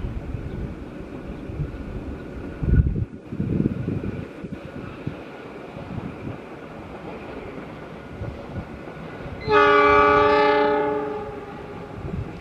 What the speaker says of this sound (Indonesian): Kereta api Lodaya berjalan langsung jalur 2, stasiun Lebak Jero